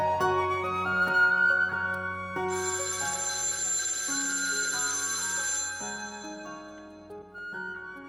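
A telephone rings with a melodic electronic ringtone: a looping sequence of clear, stepped tones and chimes plays steadily for several seconds, close and alone with no voices.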